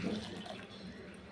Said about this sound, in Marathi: इथे मी पाणी घालते, इथे 1 ग्लास घेतलाय